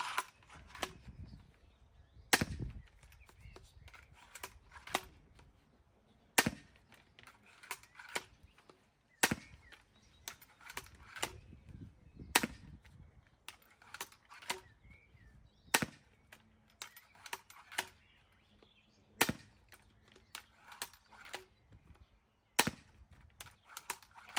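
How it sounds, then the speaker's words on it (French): A Steambow M10 crossbow fires a rapid series of about a dozen shots, each a sharp, dry snap at irregular intervals of one to three seconds, with quiet handling noise between them. "On plie l'arbalète et on enchaîne les tirs."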